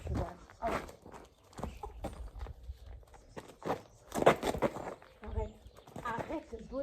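A horse shifts and steps about while being bridled, irregular hoof clops and thuds mixed with rustling tack, close by, with a person talking in French over much of it.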